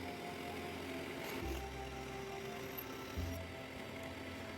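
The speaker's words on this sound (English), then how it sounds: "I'm using a 7mm drill just to put a pilot hole in" Steady mechanical hum of a 7mm drill boring a pilot hole in steel, running continuously, with low motor tones shifting and a faint high whine, fairly quiet and without speech.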